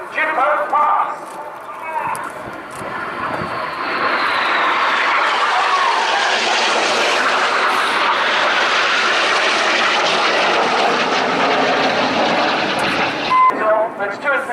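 Red Arrows jets making a fast low pass at the RIAT 2016 air display, a loud roaring jet rush that builds and sustains for several seconds before easing off, with crowd and commentary noise around it.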